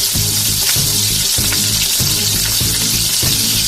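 Mustard seeds, curry leaves and green chilli sizzle in hot oil for a dhokla tempering, a loud, close, continuous crackling hiss with evenly spaced pops running throughout.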